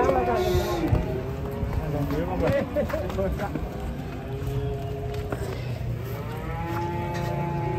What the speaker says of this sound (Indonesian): Ini guys, 3 sapi banteng mantap sekali.